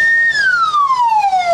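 An ambulance siren in a Russian news report outside an infectious disease hospital in Kazan: one loud, near wail that holds steady and then slides slowly downward in pitch, heard alone.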